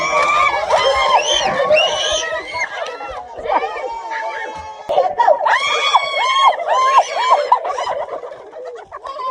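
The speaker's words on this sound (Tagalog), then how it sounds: "May tumitili, sumisigaw at tumatawa na rin." Family members at a home party squeal, shout and laugh during party games for children and adults, a dense, continuous burst of excited high-pitched voices close by.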